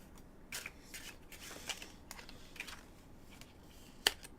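A tarot deck is shuffled by hand, heard as a few quiet, separate riffling bursts and soft taps, ending in one sharp click.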